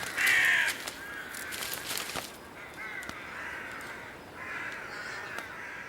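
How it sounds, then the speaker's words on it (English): Crows caw in snowy, cold winter weather, a sharp loud call at the start followed by several softer, drawn-out caws at moderate distance over quiet background hiss. "The omnipresent crows don't seem particularly worried by snow and cold."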